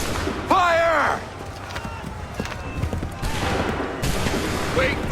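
Musket volleys crack out in a battle in Assassin's Creed 3, dense overlapping shots amid shouting voices, running footsteps and battlefield din, loud and continuous.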